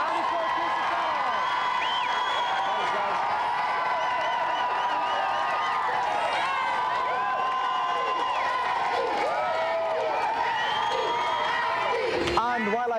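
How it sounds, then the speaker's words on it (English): A big television studio audience claps and cheers continuously for several seconds, with whoops rising over the steady roar of applause. "A round of applause again for our two special guests tonight."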